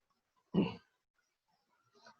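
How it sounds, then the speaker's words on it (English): A Jordan's bullfrog from the Western Ghats gives a short, low, bleating grunt like a goat's bellow, followed by a fainter second call after a pause, heard alone in quiet surroundings. "This frog sounds like a bellowing of a goat."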